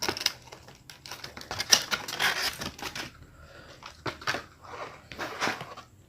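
Tape is pulled and pressed onto a headphone box, a series of irregular crackling tears and sharp ripping bursts with quiet gaps between them.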